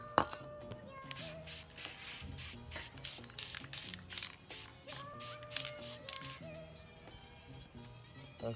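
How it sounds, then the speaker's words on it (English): Short bursts of color-shift Plasti Dip aerosol spray hiss repeatedly in a quick, irregular rhythm, close and fairly loud, with faint background noise between them. "So we're about to spray these right now with"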